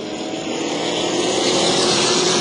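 Pro Late Model race cars roar off the start at New Smyrna Speedway, a loud, steady blended engine drone that swells slightly as the field accelerates.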